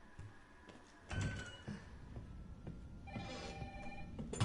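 An old-style telephone rings in the survival horror game Resident Evil 3, a faint repeating bell tone over a quiet background with a few soft thuds.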